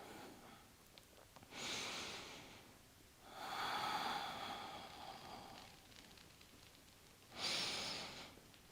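Deep breaths during a guided home exercise session, with three separate breathy inhales and exhales spaced a few seconds apart, the middle one longest, close and soft against quiet background hiss.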